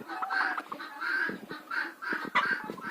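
A hen clucks inside an unheated chicken coop in winter, a close series of repeated throaty clucks in uneven bursts with brief pauses, with faint rustling in between.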